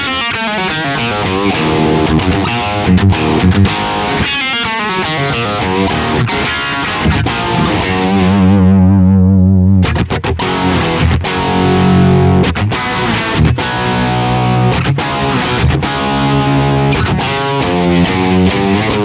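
Distorted electric guitar playing a rock riff through Blue Cat's Axiom amp simulation with light reverb, loud and continuous with chugging rhythm, sustained notes and a brief held chord partway, no talking.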